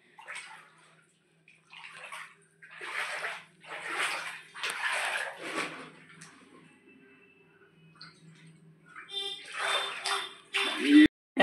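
Water sloshes and splashes in two flooded rooms, coming in repeated bursts of scooping and pouring close by with quiet gaps between them, and a louder splash at the very end.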